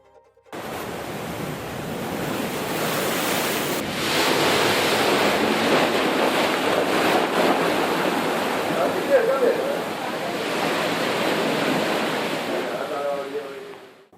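High sea waves crash on the Kerala coast during a sudden swell surge, a loud continuous roar of surf and wind that swells and eases over several seconds.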